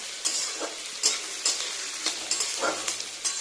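Food frying in onion-flavoured oil is stirred in a pan, giving a soft steady sizzle broken by a regular series of light scraping strokes, close and fairly quiet with no voices.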